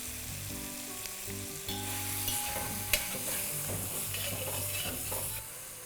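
Steady sizzling of masala frying in a pan with occasional scraping and stirring sounds, close and continuous with no talking, while cooking butter chicken kofta curry.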